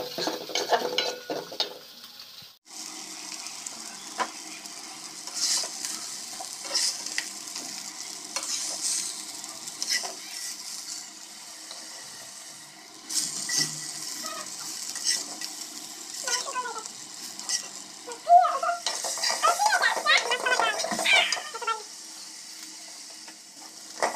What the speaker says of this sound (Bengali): মাছগুলো ভালো করে ভাজা নিলাম।